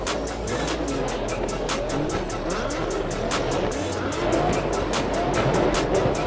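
Several loud car engines rev and roar together at a car show sound-off, with tires squealing and a crowd murmuring underneath.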